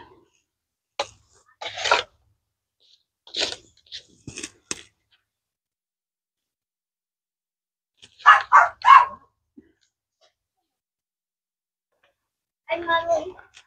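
A dog barks in several short bursts separated by pauses, fairly close, with a few sharp yips mixed in and no other sounds.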